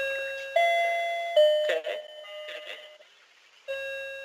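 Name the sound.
doorbell ringing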